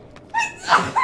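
A single short sneeze, fairly close and moderately loud, in a quiet room.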